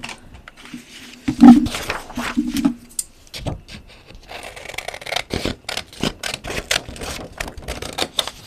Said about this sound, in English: And now we will cut it with scissors.